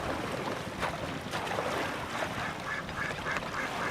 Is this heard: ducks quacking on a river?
yes